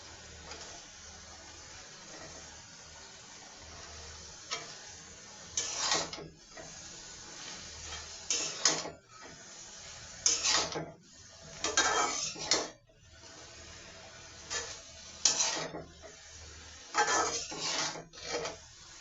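Stem amaranth greens and dried fish are stir-fried in a pan, with a metal spatula scraping and clattering against the pan in repeated bursts. Quieter gaps fall between the vigorous stirring strokes, and a faint sizzle sits underneath.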